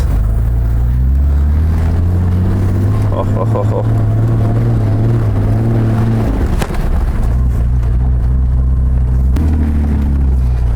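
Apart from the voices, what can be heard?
Mercedes G-Class with manual gearbox driving off-road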